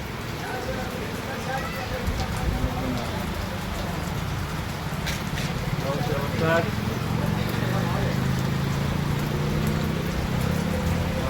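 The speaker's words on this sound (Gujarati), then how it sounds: "ધોકડવા ચાલુ થઈ ગયો છે વરસાદ" Steady rain hissing and pattering throughout, with people talking over it.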